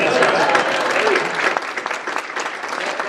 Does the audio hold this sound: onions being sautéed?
no